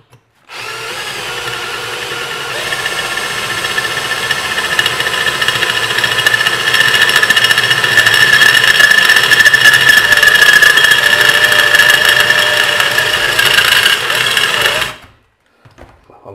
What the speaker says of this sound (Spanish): las perforaciones más rápidas las he hecho con el taladro de columna